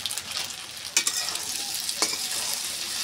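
A beef pasta mixture fries in a pan with a dense, close hiss, and two sharp utensil scrapes break through the steady sizzle.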